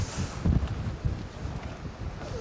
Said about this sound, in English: You see, it's windy here, no?